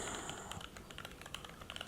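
Typing on a mechanical keyboard with an acrylic case, giving a rapid, irregular stream of close, crisp clacks and taps with occasional louder strikes, heard alone with no talking.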